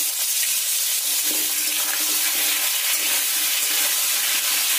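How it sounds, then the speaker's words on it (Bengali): Whole chunks of cut potato frying in hot oil, in the same oil just used to fry eggs, with a steady, close, continuous sizzle and crackle and no talk. "আলুগুলো খুব লাল লাল করে ভেজে নেব।"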